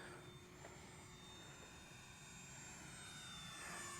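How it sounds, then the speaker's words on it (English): A slow-flying RC model jet on a 4S battery whines steadily from a moderate distance, its faint, even drone holding through the pass and swelling slightly toward the end. "just a smooth flying jet"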